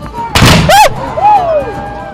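A cannon fires at a St. Patrick's Day parade, one loud, close blast, followed by falling whistling tones and crowd noise.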